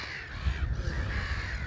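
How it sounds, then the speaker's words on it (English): Harsh, loud gull calls ring out along a busy, noisy stretch of shoreline near Hurst Castle, one long screeching cry carrying over the steady low rumble of wind. "These are gulls, I'm sure."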